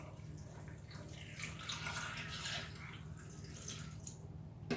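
Water poured from a cup into a blender jar for cucumber, carrot and tomato juice, a steady close splashing and trickling that swells in the middle and runs on for several seconds with no talk over it.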